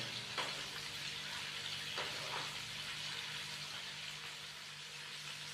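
Chicken pieces sizzle steadily in a hot pan while making bhindi chicken, a constant close frying hiss with a few soft stirring clicks and no talking.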